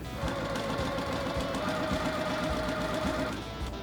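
A sewing machine stitching strips of a pre-cut quilt, a steady fast mechanical chatter with a faint motor whine, continuous and close for a few seconds with no speech.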